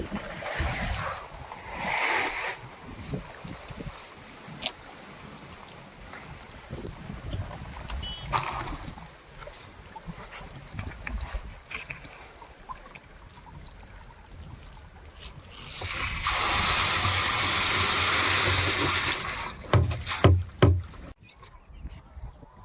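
Irrigation water runs into farm channels on an onion farm, a steady rushing wash with a louder surge near the end and occasional handling noises, no voices.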